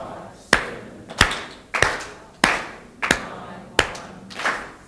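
Seven sharp, evenly spaced hand claps in a counting game, each a crisp close-up smack with a brief room decay, spaced roughly two-thirds of a second apart with no talking.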